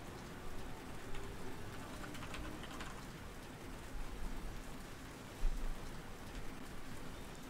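Steady rain in the racing game Trackmania, a continuous hiss of drops hitting surfaces with a few louder patters, close and even throughout with no voices.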